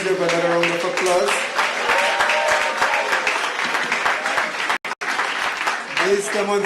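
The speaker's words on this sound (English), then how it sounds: "She does deserve another round of applause." Audience applause at an exam results release ceremony, steady crowd clapping under and alongside a speaking voice, briefly cutting out near the end.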